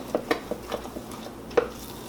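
Bread dough is worked by hand in a bowl held on the hip, making soft irregular slaps and squelches at close range, fairly faint, with one louder thump.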